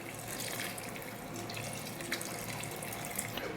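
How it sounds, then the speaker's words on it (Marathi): Water poured steadily into a pot of soybean dal and rice, a continuous faint splashing trickle with no voices. "आता त्याच्यामध्ये आपल्याला पाणी टाकायचं आहे."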